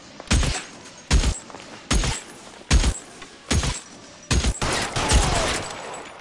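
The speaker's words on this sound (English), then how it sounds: "Shot him in the butt. Killed him." Gunfire in the LA Noire video game: six loud, evenly spaced shots with sharp attacks and short decays, each ringing out alone, the last trailing into a longer rumbling echo.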